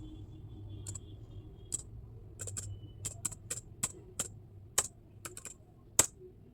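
Login details typed on a computer keyboard, scattered individual key clicks with uneven spacing over a quiet low hum, a sharper press near the end.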